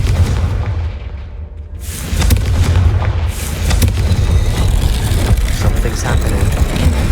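The Confringo fire spell bursts in Hogwarts Legacy with a heavy booming blast that rolls into a sustained low rumble and crackling roar, loud and dense throughout.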